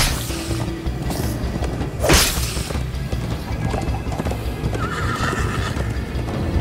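A horse galloping in Minecraft Story Mode, with rapid clip-clop hoofbeats throughout, a loud whoosh or crash near the middle, and game music and effects around it.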